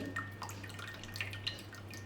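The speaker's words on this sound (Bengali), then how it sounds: "যে জলটা আছে সেটা কিন্তু নিচে আস্তে আস্তে পড়ে যাবে" Water from pressed chhana (fresh cheese curd) drips through a strainer in a home kitchen, a few soft scattered drops over steady low background hum, no talking.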